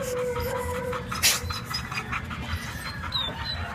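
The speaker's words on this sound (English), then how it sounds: "listen to her whimper" A female dog at a San Bernardino city animal shelter whimpers with thin, high-pitched whines over soft panting, close by and intermittent.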